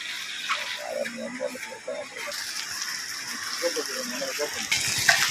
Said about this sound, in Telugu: ఆ చెక్ డ్యామ్లోకి వచ్చే నీళ్ళు అన్నమాట ఈ ఫోర్స్ అంతా.